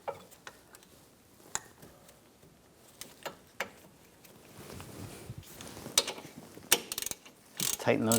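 A hand ratchet tightens the front brake caliper bolts on a 2010-2014 Volkswagen GTI, giving sparse, sharp clicks and brief ratcheting bursts that become busier toward the end, close and fairly quiet.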